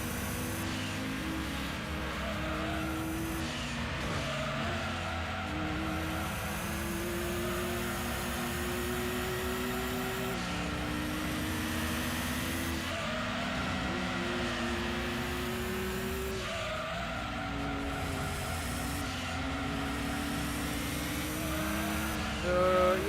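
Gran Turismo 2 race car engine droning steadily with repeated rising pitch sweeps as it accelerates through the gears, a continuous mid-level whine with no talk.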